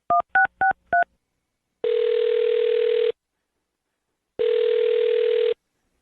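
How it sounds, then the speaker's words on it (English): Four quick dual-tone keypad beeps as a phone number is dialed, followed by two long, steady ringback tones separated by a silent pause, clean and close. "I'm going to dial her phone number right now"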